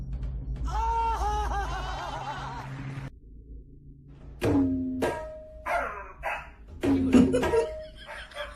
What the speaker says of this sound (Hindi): कुत्ते का आवाज